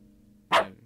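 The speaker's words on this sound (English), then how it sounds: "There's a dog now." A single short dog bark comes from the video game Lisa. It is sharp and fairly close, over a quiet game background.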